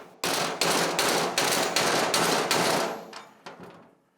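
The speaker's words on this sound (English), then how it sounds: "Hit it dead center with a hammer, and she should knock free." A hammer strikes a drift to knock out dirt bike hub parts, about eight sharp metallic blows in quick even succession, loud and close, the last few lighter and fading.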